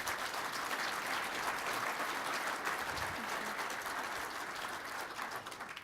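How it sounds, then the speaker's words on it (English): An audience at a breakfast event applauds panelists in a steady, dense wash of clapping that holds evenly throughout, heard from a moderate distance. "Can we have a round of applause for our panelists?"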